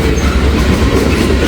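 Loaded freight train boxcars roll past close by on rails in a valley, a steady, dense rumble with clattering wheels, loud and continuous, with no voices.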